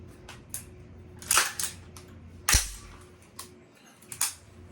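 A single rifle shot fired from an unsupported shooting position rings out once, sharp and close, among a few fainter clicks and handling knocks, with no talking.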